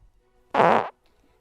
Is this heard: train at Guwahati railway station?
no